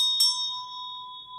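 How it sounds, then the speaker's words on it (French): A small hand bell struck once during a purification ritual, a bright clear ring with a sharp onset that hangs on as a long, steady sustained tone fading slowly, alone with no voices. "Allez, un petit son de cloche"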